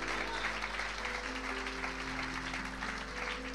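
A church congregation applauds and cheers in praise of the Lord, a dense, steady roar of clapping and voices filling the room throughout, with a low hum underneath.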